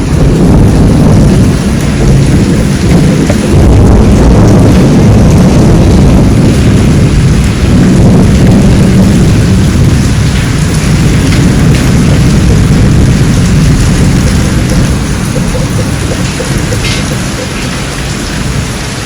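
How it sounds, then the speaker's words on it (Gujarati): Heavy rain pours down in a dense, steady roar while deep thunder rumbles beneath it, loud and close throughout. "કડાકા ભડાકા વરસાદ"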